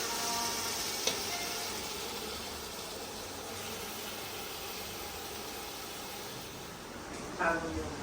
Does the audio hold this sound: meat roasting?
yes